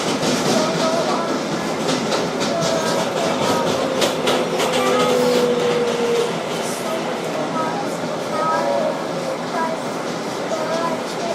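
Interior rumble of a 2012 Kawasaki R-188 subway car running on the 7 local toward Flushing-Main Street in Queens, a steady loud roar with wheel clatter and brief squeals throughout.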